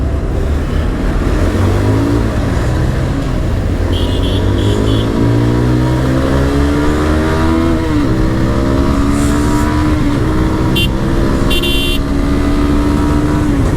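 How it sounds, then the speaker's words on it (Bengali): A Yamaha R15 V3 and GPX motorcycles ride along a road, engines rising and falling in repeated loud revving sweeps as they accelerate and shift, with brief horn-like tones and steady wind rush throughout. "ও আরন, ইয়ামাহার হচ্ছে R15 ভার্সন 3, সামনে GPX, তারপর আবার GPX"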